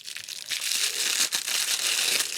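A seam ripper cuts through tied stitching on a sewn fabric cat kicker toy, giving a close, steady crinkly rustle that keeps going for a few seconds with short scratchy bursts.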